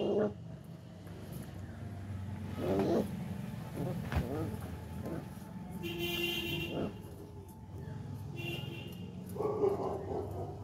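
Small puppies play and scuffle indoors, with faint yips, whimpers and little growls scattered through the clip while a person talks softly over them.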